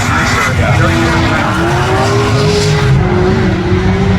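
A race car engine roars steadily with a long sliding tire whine over it during drifting at Lime Rock Park, loud and close, with a voice talking underneath.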